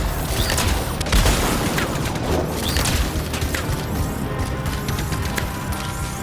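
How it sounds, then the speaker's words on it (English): Dense, continuous video game gunfire crackles and booms, with rapid overlapping shots and explosions filling the scene at constant loud volume. "I can just go through all this gunfire."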